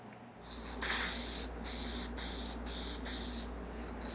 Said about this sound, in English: If you've got some, spray lacquer, you can probably hit it with a light coat of that.